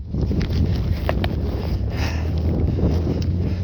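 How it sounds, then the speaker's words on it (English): Gusty outdoor wind buffets the microphone in a steady, loud, broadband roar with faint knocks and rustles beneath it. "It's a little windier than I thought it would be today."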